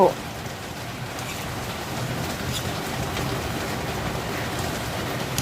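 Rain falls steadily in a continuous soft hiss at an outdoor market stall, with faint background activity and no clear speech.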